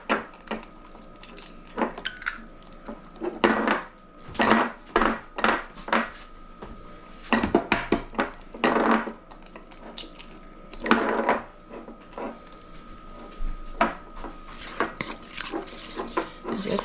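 A utensil clatters and scrapes against a bowl while eggs and peanut butter are whisked together for a dog cake, irregular bursts of clinking strokes with short pauses between them, close and fairly loud.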